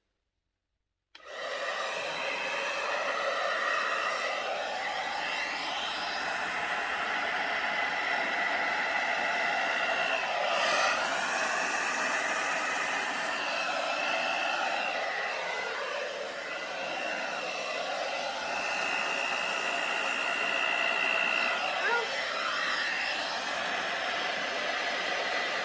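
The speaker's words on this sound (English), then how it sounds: "And I am going to use the low setting on this hair dryer." A hair dryer on its low setting, blowing through an air concentrator nozzle, gives a steady, close-up whoosh of rushing air that starts abruptly after a second of silence and holds evenly to the end.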